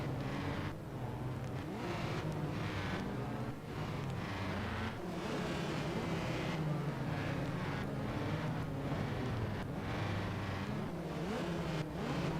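Several race cars circulating on the Portland track in a clean club race, a continuous loud mix of engines rising and falling as they pass close by, with no break in the noise.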